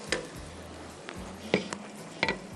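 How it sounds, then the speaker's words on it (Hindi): Ginger garlic paste and onions fry in a pan, a soft steady sizzle broken by several sharp clinks and scrapes as a spoon stirs against the metal, close by with no talking. "अच्छी तरह दोनों को भूनें ताकि दोनों का कच्चापन ख़त्म हो जाए, अदरक लहसुन का और प्याज का"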